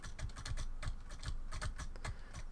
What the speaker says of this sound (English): you probably can hear me tapping furiously away at my spacebar